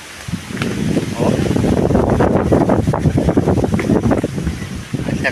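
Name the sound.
wind blowing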